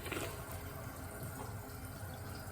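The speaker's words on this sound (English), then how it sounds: "Having a sink with running water is one of them." Water runs from a sink tap at a truck stop shower facility off Interstate 5 in Tracy, California, a steady close hiss of flowing water that holds evenly throughout with no talking.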